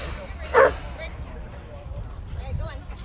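Dogs at a dog park during a renaming ceremony give a single loud bark near the start, followed by softer yips and whimpers amid crowd murmur and background chatter.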